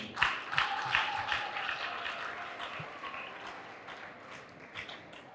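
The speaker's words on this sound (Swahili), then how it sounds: "Tumpigie makofi mgeni wetu." An audience at a senate graduation ceremony for colleges and universities in Dar es Salaam claps for the guest, a burst of scattered hand claps that swells at the start and gradually thins out.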